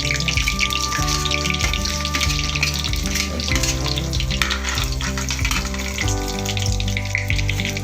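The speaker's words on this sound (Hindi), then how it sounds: "और ये प्याज, ये प्याज को थोड़ा सा हम भून लेंगे ब्राउन होने तक।" Chopped onions sizzle in a pan with cumin seeds, giving a dense, continuous hiss and crackle that stays loud throughout, with no voices.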